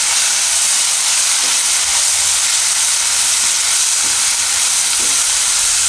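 Tomatoes sizzle in a pan with thinly sliced raw bananas for kela pava, giving a steady loud frying hiss with a few soft stirring knocks and no voices.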